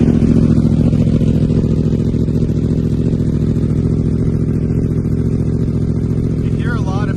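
A 2023 Yamaha R1 with a loud Yoshimura exhaust idles after a cold start, a dense, steady, loud rumbling drone close by with little variation, and a brief higher whine near the end.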